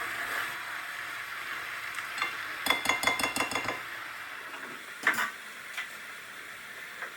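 Green curry paste and onions sizzling in a pan while stirred with a metal utensil, a steady close frying hiss broken by quick rhythmic bursts of scraping and clinking against the pan, with no talking.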